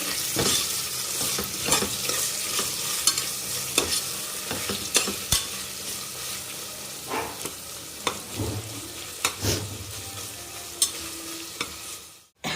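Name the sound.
stirring and frying masala for chicken dum biryani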